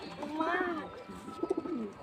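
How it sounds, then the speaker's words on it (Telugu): Pigeons cooing in soft, repeated throaty phrases at fairly close range, with a voice talking over part of it. "ఇంకా పావురాలు పడుతున్నాను చూడండి"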